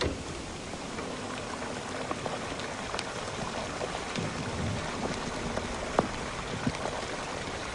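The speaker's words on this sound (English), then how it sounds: "we sprayed water on the coals and we got all this really incredible crackling and gurgling and all sorts of lava type sounds" Water sprayed onto burning coals, recorded as lava-like material for the Diablo 3 game, gives a dense, steady hiss of crackling and bubbling gurgles, with a few sharper pops breaking through near the end.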